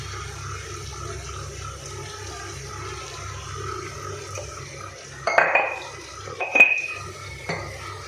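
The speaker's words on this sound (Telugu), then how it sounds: "ఈ కాళ్ళ ముక్కలు మొత్తం కలిసేలాగా బాగా కలుపుకోవాలి." Goat trotter curry is stirred in a pot, quiet cooking bed broken by a few clattering scrapes and knocks of a spoon against the metal in the last seconds, close, no voices.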